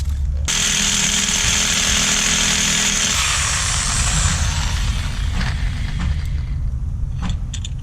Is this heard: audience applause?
no